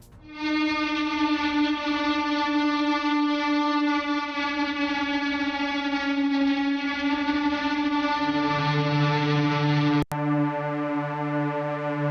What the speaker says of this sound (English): listen to the artifacts that a lead guitar amplifier produces